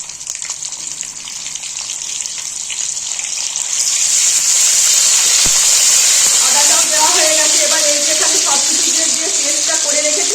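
Garlic and ginger paste fries in hot oil, giving a continuous bright sizzle that swells louder partway through, while a voice talks faintly underneath toward the end.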